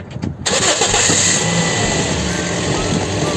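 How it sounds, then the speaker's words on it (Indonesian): Toyota Vios, a former taxi, cranks briefly and catches, then settles into a loud, steady idle close to the microphone, with no one talking. "Nyalain mesinnya. Pas lagi jadi bahan, suara mesinnya kayak gimana sih?"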